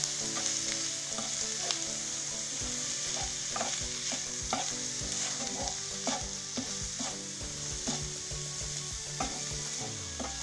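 Herbs and spices with parsley and coriander simmer and sizzle in a pan for a shrimp brick filling, a continuous soft frying crackle with a few stirring knocks and clinks, steady and fairly quiet, with no talk.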